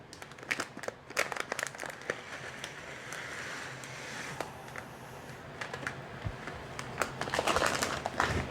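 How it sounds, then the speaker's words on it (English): A bag of dry orzo pasta is poured into a pan, giving a soft, quiet crinkle of plastic and a patter of small grains. Sharp little ticks and rustles scatter across several seconds. "we're going to add in 1 bag of orzo pasta"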